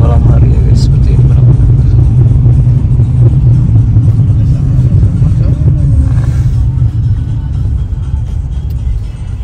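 Cars in a night traffic jam in Moscow, a steady loud low engine rumble and road hum heard from inside a vehicle, continuous throughout.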